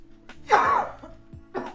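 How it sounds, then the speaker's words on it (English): Two short, dry coughs from a person at a community meeting, the first louder and longer, the second a brief follow-up a moment later in a quiet room. "got a little bit of a cough"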